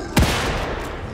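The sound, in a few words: gunfire in the video game The Evil Within 2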